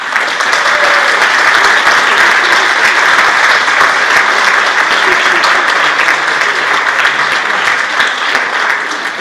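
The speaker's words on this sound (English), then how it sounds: "Can we give all the performers another big round of applause?" An audience in a church gives the performers a big round of applause, a dense steady wash of clapping that holds evenly throughout, with faint voices beneath.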